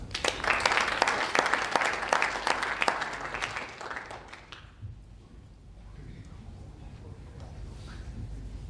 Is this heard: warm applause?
yes